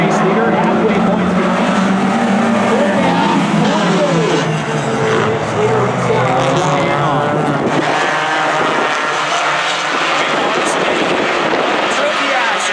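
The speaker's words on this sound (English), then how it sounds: "closes in on the back of the 3 of Curbis as they come off at turn number 4" Hornet class race cars roar around an oval track, engines droning loud and continuous as the pack comes off turn four, with an announcer talking over the engine noise throughout.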